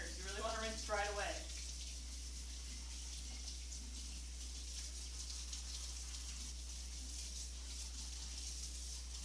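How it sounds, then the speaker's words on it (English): Running water from a kitchen tap pours over a mesh strainer in a steady, soft rush that continues throughout, opened by a brief burst of voice at the start. "we're gonna rinse this real quick before it gets permanently stuck in here"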